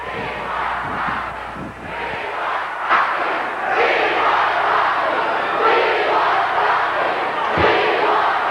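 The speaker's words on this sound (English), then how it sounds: "This capacity crowd in unison. We want Rocky, referring, of course, to Rocky Johnson." A capacity crowd at a 1983 World Wrestling Federation event chants in unison for Rocky Johnson. The roar of many voices is loud and sustained, swelling in rhythmic waves across the arena.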